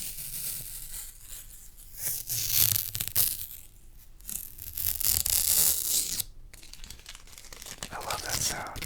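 A plastic protective film is peeled off an Atari Gamestation Pro console, with close, loud crinkling and tearing in repeated bursts, pausing briefly between pulls.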